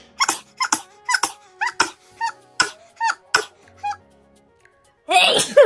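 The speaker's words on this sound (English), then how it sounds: "I sneeze like that every time I sneeze." A run of short, sharp sneezes follows in quick succession, then a louder exclamation at the end.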